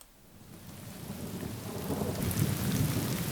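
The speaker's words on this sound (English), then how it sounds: "It's rain, that's not going to work." Steady heavy rain pours down while a low thunder rumble swells and grows louder toward the end, with no voices.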